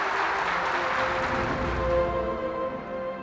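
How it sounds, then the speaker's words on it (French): At a religious liberation and ancestor blessing seminar in the DR Congo, a large audience claps in a dense, continuous wash. The sound stays fairly loud and close, fading slightly toward the end, with no talk over it. "Applaudissements"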